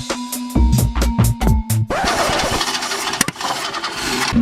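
A Chevrolet Nova engine cranks in several quick starter bursts, then catches and roars up into loud, sustained revving close by.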